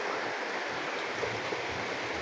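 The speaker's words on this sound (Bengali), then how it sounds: "বৃষ্টি, খুবই বৃষ্টি বৃষ্টি হচ্ছে" Heavy rain falls in a steady, dense broadband wash with no breaks, close and fairly loud throughout, with no voices or other sounds over it.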